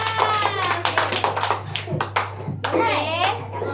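Children clapping hands in a classroom after a body-parts game, a short burst of claps mixed with kids' voices and an adult talking.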